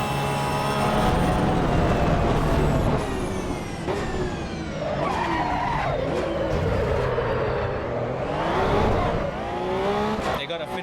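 A race car engine in the Assetto Corsa EVO racing game revs loud and close, with rising and falling gear-change sweeps, a sharp drop on downshifts and some tire squeal, steady throughout with a voice talking over it.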